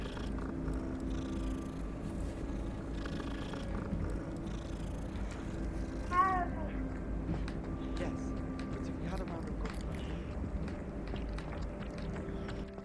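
A cat purrs softly in the video game Hogwarts Legacy, a low steady rumble running under background game music with a brief chirp partway through.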